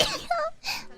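One short close sneeze, an abrupt breathy burst followed by a softer exhale, very brief with no talking.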